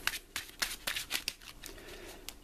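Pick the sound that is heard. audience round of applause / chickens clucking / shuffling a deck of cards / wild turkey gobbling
shuffling a deck of cards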